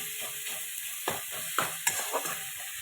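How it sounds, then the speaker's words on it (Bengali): A spoon stirs gravy with turmeric and salt in a pan over a soft continuous sizzle, with several distinct scraping knocks of the utensil against the metal. "ভালো করে নেড়ে তার মধ্যে হলুদ একটু স্বাদ মতো, একটু নুন স্বাদ মতো ভালো করে নেড়ে গ্রেভির আকারে তৈরি করে নেব।"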